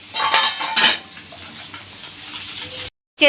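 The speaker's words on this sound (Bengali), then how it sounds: "আমি সব গুঁড়ো মশলা এই জলে গুলে রাখলাম" A spoon scrapes and clinks against a container while ground spices are stirred into water for a chicken curry. Two sharper knocks come early, then a steady swirling clatter that cuts off abruptly near the end.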